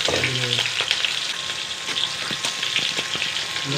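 Mustard seeds crackle and pop in hot oil for tempering, a steady close sizzle peppered with sharp little bursts throughout.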